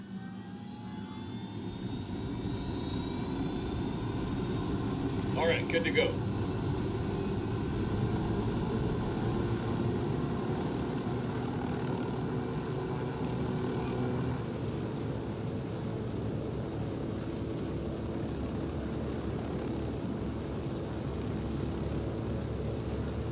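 A helicopter in the video game Ghost Recon Wildlands drones steadily throughout with a broad, continuous rotor and engine roar, loud and close, while a voice speaks briefly near the start.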